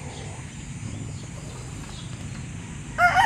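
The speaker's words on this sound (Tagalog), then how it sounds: "Ang dami manok doon sa may raging area natin guys." Chickens on a chicken farm, a dense low murmur of clucking flock throughout, with a sharper, louder call rising near the end, close and continuous.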